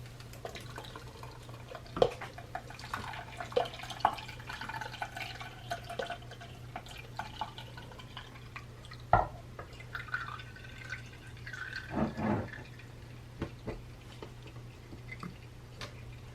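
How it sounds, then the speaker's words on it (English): Beet, carrot and orange juice drips through a strainer into a bowl, giving scattered soft drips and small splashes, with a few louder plops and a brief trickle, over a low steady hum. "You're going to let the juice flow."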